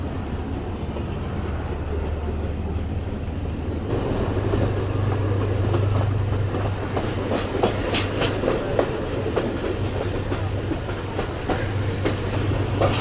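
A packed Subak Raftar passenger railcar runs steadily with a loud rumbling roar, while rhythmic clickety-clack wheel beats and rattles grow sharper partway through.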